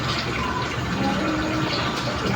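Motor oil poured into a motorcycle engine during a DIY oil change, a continuous close gushing, glugging liquid flow without pause.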